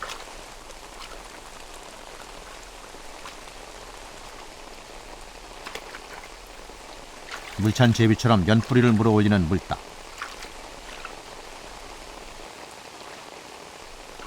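Spring rain pattering steadily over a broad lotus pond, a soft continuous hiss throughout, with someone narrating in Korean over it partway through.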